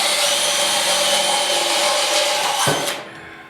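A power drill bores pilot holes in the steel bodywork of a 1956 Ford pickup's rear fender area: a loud, steady high-pitched whine that drops in pitch as the bit breaks through and then winds down to a stop.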